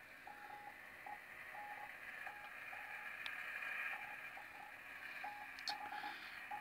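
A Morse code CW radio signal fed through a Donner interface into fldigi beeps as a steady single tone in irregular dits and dahs, faint against a constant hiss of receiver noise, with no talking.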